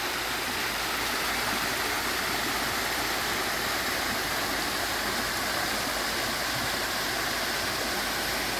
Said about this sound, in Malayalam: ഈ കാണുന്ന വെള്ളച്ചാട്ടത്തിൻ്റെ അടുത്താണ് നിന്ന് കുളിക്കുന്നതാണ്.